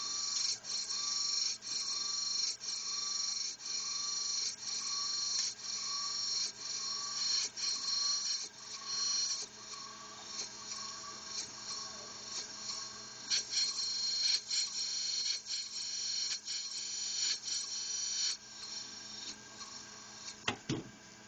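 A camshaft grinding machine works a Honda D15B camshaft, a steady high-pitched whine with a rhythmic periodic pulsing from the rotating cam lobes against the wheel, sustained at an even level and without speech.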